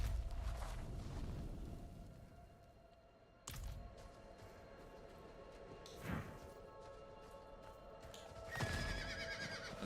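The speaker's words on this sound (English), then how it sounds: "That's right, I do have a horse." A horse whinnies in the video game Diablo IV, a fairly faint neigh rising out of a busy game soundscape with low rumbling, thumps and clatter in the background.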